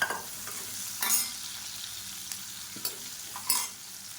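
Sliced onions and chopped garlic fry in a pan for sambar, a faint sizzle broken by a few sharp scrapes and clinks of a stirring spoon.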